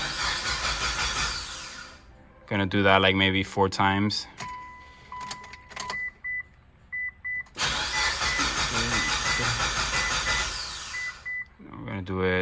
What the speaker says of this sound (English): so we're just gonna prime the car